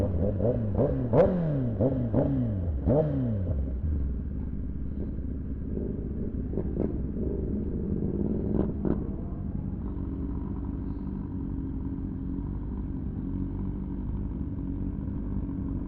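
Motorcycles gathering for a group ride, including a Honda Blade, a V4 and a Yamaha R7, rev several times in the first few seconds, then settle into a steady idling rumble nearby with no talking.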